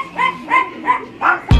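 A dog gives four evenly spaced barks, close and fairly loud. A sharp thump follows right after the last one.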